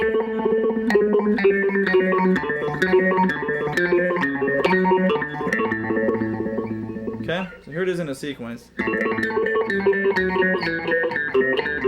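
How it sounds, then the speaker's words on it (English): A distorted, bubbly synth-like tone from a Boss PH-3 phase shifter pedal in step mode plays a sequence of notes, warbling and sweeping, with a brief swooping break near the end; a voice speaks briefly over it. "This is going to give us this really weird fast aggressive, bubbly sound"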